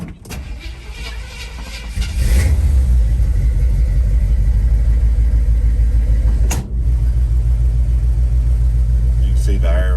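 A Chevrolet square body truck on air ride suspension starts after a short crank, then settles into a loud, steady, close engine rumble, with a brief dip partway through.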